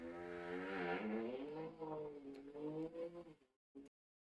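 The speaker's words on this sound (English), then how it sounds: "Apologize for that revving sound." A neighbour's car engine revving hard nearby, a rising and falling harmonic whine that sweeps up and down over several seconds before cutting off, followed by a short final blip, heard alone.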